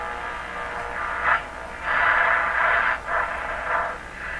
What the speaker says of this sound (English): Let's go back to the AM band. So right away you hear lots more noise, right?